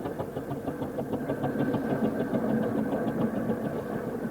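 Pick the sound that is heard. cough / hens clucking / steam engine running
steam engine running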